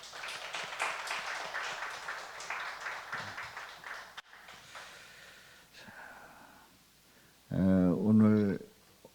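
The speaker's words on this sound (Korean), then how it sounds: "우리 박수로 격려합니다" A church congregation applauds a youth choir at a Friday late-night prayer service. The clapping runs steadily for about four seconds, then fades, and a voice speaks briefly near the end.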